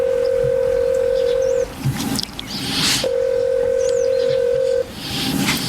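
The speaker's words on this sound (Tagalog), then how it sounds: "Tatawagan kong number na nag-text sa kanya." Telephone keypad tones as a number is dialed, two long steady beeps separated by a pause, with some shorter tonal chirps and noisy rustling between them, clear and close.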